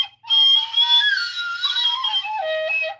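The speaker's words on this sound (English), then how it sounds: "Now, you're going to hear some penny whistling." A penny whistle plays alone for about three seconds, bright and close, sliding through a short run of high notes.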